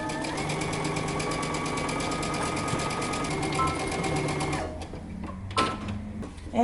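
A sewing machine stitches a dress shoulder seam to a yoke at a 5/8-inch seam allowance, a steady close rapid whir that runs for several seconds and then stops, leaving a few soft handling noises.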